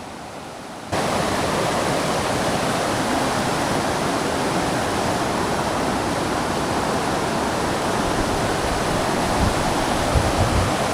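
A stream flows beside a boxwood forest near Palovit waterfall, a loud, close, continuous rush of water that sets in abruptly and holds steady throughout with no voices.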